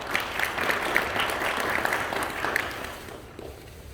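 Applause from the audience at a Polish first-class induction ceremony greeting a newly sworn-in pupil: steady, busy clapping from many people that fades out over the final second.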